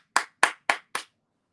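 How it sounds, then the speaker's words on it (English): Four sharp, evenly spaced hand claps ring out close and alone, then silence; a solo clap during a football watchalong livestream. "Clap for that. Applause."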